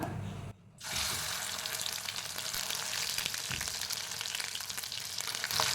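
Ground onion paste hits hot oil with cardamom for matar paneer, bursting into a loud, steady sizzle after a brief quieter moment, crackling close and continuous.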